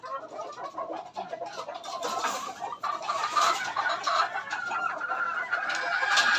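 A pure Raptor broodstag gamecock clucks continuously and close by, its calls rising and falling in a busy, throaty stream.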